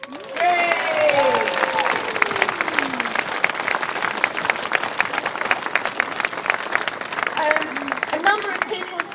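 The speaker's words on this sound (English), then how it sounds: "we should all give him a big clap now" An audience applauds architect David Chipperfield at the opening of Turner Contemporary, with sustained clapping from a crowd, a cheer and scattered voices over it.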